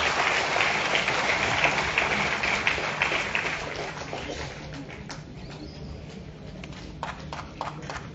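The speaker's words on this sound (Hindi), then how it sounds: "एक बार जोरदार तालियों से गिरीश जी का वेलकम करें सभी।" An audience applauds to welcome a guest at a Youth Congress gathering, a dense wash of clapping that is loudest at first and then thins out, with scattered claps continuing toward the end.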